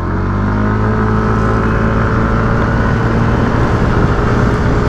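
A 2020 Yamaha Aerox S 155 scooter engine runs at full throttle, a loud, steady, close drone with a constant buzzing tone and no voices.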